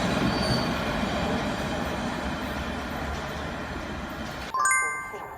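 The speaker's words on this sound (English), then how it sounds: "Passenger trains whisk people off to exciting destinations." A train rumbles steadily along the rails with a dense, continuous roar, then sharp metallic wheel squeals ring out near the end.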